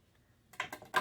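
Paper being trimmed for a handmade craft cluster of altered paper clips: a quiet lead-in, then three crisp, close snipping cuts in quick succession, with no talk.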